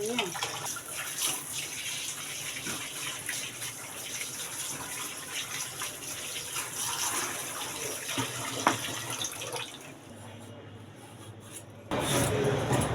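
Fish are washed under a running tap, a steady close gush of water with rubbing and splashing, briefly quieter near the end before the flow returns strongly; a voice is heard faintly under the water.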